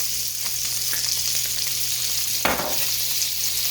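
About a tablespoon of butter and the same of olive oil sizzling in a pan for pork chop gravy, a steady loud close crackle with one brief sharper burst partway through.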